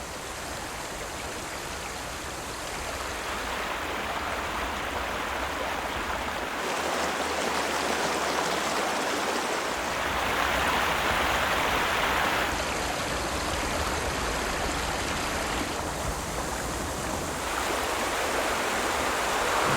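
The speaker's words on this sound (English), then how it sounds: "I beautifully love the sound of the river." A river in Tirthan valley rushes steadily nearby, a continuous broadband shushing of flowing water that stays loud and even throughout with no voices.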